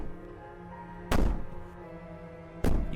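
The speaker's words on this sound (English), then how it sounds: "Bang on the door." Two heavy, booming thuds of someone banging on a wooden cabin door in the video game Slay the Princess, spaced about a second and a half apart over a low, droning musical backdrop.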